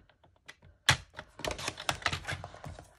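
Scissors snip through junk journal paper to trim the top off a page, a run of close, sharp cutting clicks and crisp rustles starting faintly, then a louder burst of quick irregular snips.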